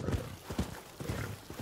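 A horse's hooves clop in Rise of the Ronin, a few distinct, evenly spaced footfalls close by over a short stretch, fairly soft against a low background.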